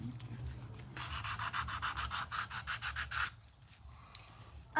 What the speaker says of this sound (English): Should I just keep sanding it?